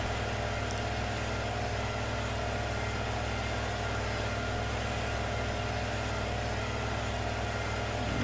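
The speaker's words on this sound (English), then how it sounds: "it takes a pretty large tractor to even pull it" A large tractor in Farming Simulator 15 drones steadily while pulling a Kinsey 1300 grain cart, its engine a constant low rumble that holds even and unbroken throughout, with no voices.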